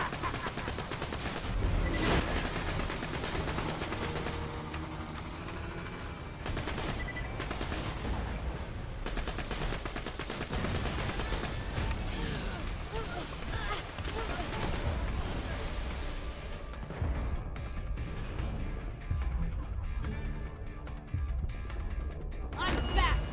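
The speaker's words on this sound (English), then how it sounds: "Who is still shooting at me?" Rapid gunfire rattles through a Borderlands 2 fight, repeated shots and bursts running throughout with crashes and impacts, while voices talk over the action.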